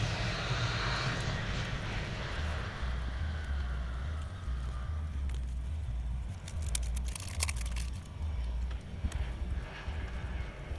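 A large US plane's engines drone steadily on a runway, a heavy low rumble holding throughout with faint rattles and brief crackling noise near the middle.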